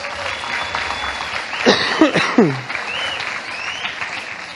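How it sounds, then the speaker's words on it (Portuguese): A church congregation applauds a man called up beside the pastor, steady clapping through the whole stretch while a voice speaks briefly over it. "Uma salva de palmas para o Márcio, gente."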